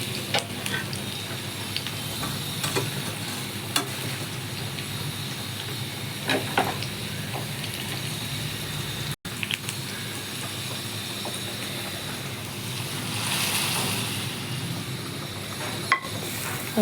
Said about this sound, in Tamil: வதங்கினதுக்கப்புறம் இப்போ கொதிச்சுக்கிட்டு இருக்க சாம்பாரில் நம்ம போட்டுற வேண்டியது.